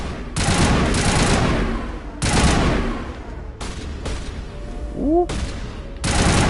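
Sustained bursts of rifle fire in the Mass Effect video game rattle loudly in several long volleys broken by short pauses, and a voice briefly exclaims partway through.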